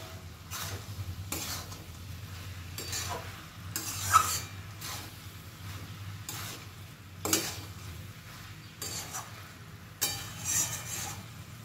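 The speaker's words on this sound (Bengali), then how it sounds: "ভালো করে সবকিছু মিশিয়ে নেব।" Cabbage with hilsa fish head and a dusting of dry flour is stirred and mixed in a pan, with a steady low sizzle and a series of scraping, clinking spoon strokes against the pan.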